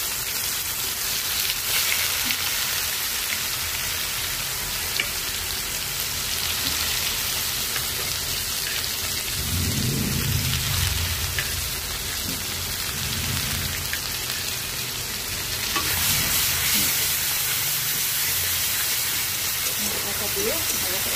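Cumin seeds and a ready spice paste sizzle in hot oil in a kadai, a steady rain-like hiss with a low burst of bubbling midway and no talking.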